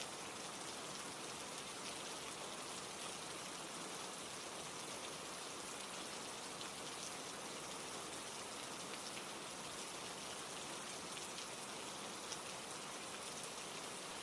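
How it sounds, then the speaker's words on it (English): Steady rain falls outside, a dense, even hiss of drops hitting surfaces that holds unbroken and moderately soft for the whole stretch, with no voices. "The rain continued to fall outside, softly, endlessly,"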